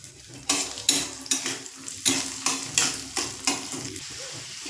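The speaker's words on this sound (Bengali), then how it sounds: "বাদামগুলো একটু নাড়াচাড়া করে নেব। এর মধ্যে এবারে চানার ডালটা দিয়ে দিলাম।" Chana dal and peanuts fry in a pan, stirred with a spoon in a steady rhythm: about ten scraping, sizzling strokes roughly every half second, close and clear over a soft background sizzle.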